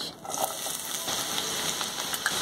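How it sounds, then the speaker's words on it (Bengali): Chopped onions go into hot oil left from frying potatoes for spicy egg pakora, giving a steady, close, hissing sizzle with faint crackles throughout and no talking. "এই তেলের মধ্যে দিয়ে দেবো কেটে রাখা পেঁয়াজ।"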